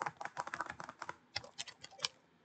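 Keyboard typing in the Stardew Valley video game: a quick, irregular run of soft clicking keystrokes, dense at first and then thinning to scattered taps, heard alone at low volume.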